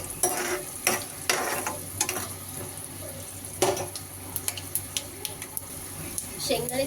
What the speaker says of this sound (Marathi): शेंगदाणे छान गोल्डन ब्राउनिश कलर येईपर्यंत